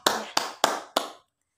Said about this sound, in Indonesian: kita beri tepuk tangan untuk memberikan aplaus kepada teman kalian